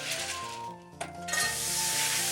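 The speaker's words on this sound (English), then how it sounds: "when we put about 1/2 cup of ice cubes in, you're going to hear the hiss and see the steam" A sharp burst of hissing and sizzling rises as ice cubes hit a hot cast iron pan in an oven, settling into a steady loud sizzle, with a faint metallic clink.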